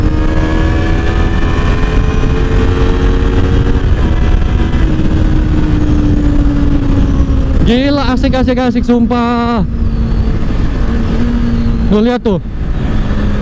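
Honda CBR250RR motorcycle engine droning steadily while riding, with a brief sharp rev surge midway and another short blip near the end, under the rider's excited talk and wind rush.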